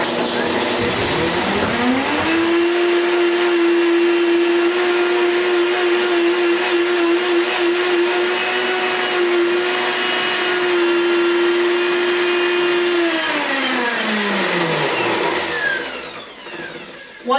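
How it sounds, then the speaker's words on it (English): Sesame seeds are ground in a blender on high speed: the motor spins up into a loud, steady whine that holds for about ten seconds, then winds down and cuts off, close and alone with no voices. "I'm going to blend at high for about 20 seconds."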